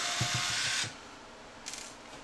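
A power screwdriver whirs briefly as screws come out of a Talonaxe blaster's muzzle, a short buzzing run with a few stuttering pulses, then quiet and a faint second rattle.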